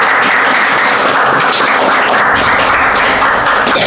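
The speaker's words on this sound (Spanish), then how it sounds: "aplauso." Loud, close applause from guests at a civil wedding ceremony in the Pampas capital, a thick burst of many clapping hands running unbroken to the end.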